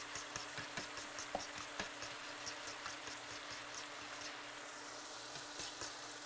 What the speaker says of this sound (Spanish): Vamos a batir muy bien con un tenedor